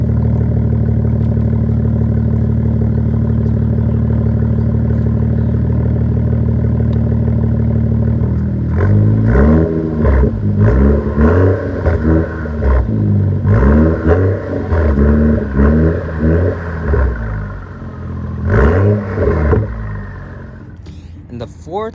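A 2014 BMW 335i idles with a steady, loud, low drone that runs alone for about eight seconds, then continues under someone talking, with no clear revving.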